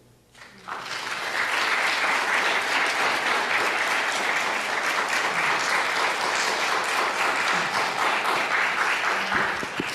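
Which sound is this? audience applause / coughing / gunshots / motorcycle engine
audience applause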